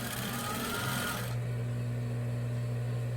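A sewing machine runs steadily, stitching a Christmas cushion along the presser foot, giving a close, continuous whirring drone whose bright upper hiss drops away partway through.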